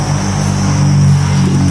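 Wasps swarm near tuba coconut sap being collected in the countryside, making a loud, continuous droning buzz that holds steady throughout with no voices.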